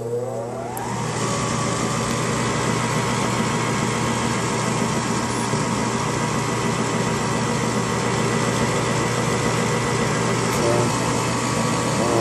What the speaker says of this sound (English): Inducer motor's running